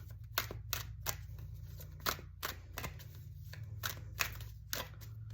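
Tarot cards riffle and snap in a quick irregular series of crisp bursts, close by, over a steady low hum with no talking.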